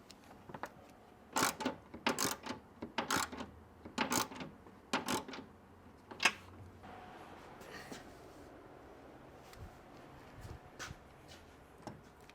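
Tools tightening bolts on a customer's Ferrari bumper, giving quiet ratcheting clicks in short bursts, several quick runs over a few seconds, then fainter handling noises in a quiet workshop.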